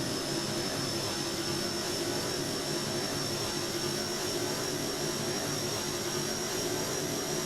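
Propeller aircraft engine throttling up in Kerbal Space Program, a constant loud droning hum with a steady whine on top, unbroken and alone for several seconds.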